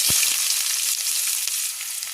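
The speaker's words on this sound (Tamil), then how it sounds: "கடாய் வச்சு எண்ணெய் போட்டுக்கலாம். வெங்காயம் போட்டுக்கலாம்." Onions frying in oil in a kadai, giving a loud, close, continuous hiss of sizzling with a brief low thump right at the start.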